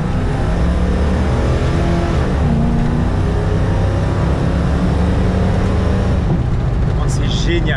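Dodge Challenger V8 engine revving up toward 5000 rpm, a loud continuous rising roar with a dip and pickup midway, close and steady throughout, with people talking under the engine noise near the end.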